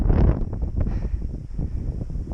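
Steady wind gusts buffet the microphone on the summit of Mt. Wrightson in Arizona's Santa Rita Mountains with a low, continuous roar, fairly loud and close, with no voices.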